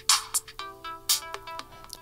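The Street Lights ringtone plays from a Samsung Gear S3 Frontier smartwatch, a bright, bouncy run of short chiming electronic notes in a quick melodic pattern, heard close and clear.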